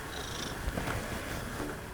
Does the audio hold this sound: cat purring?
yes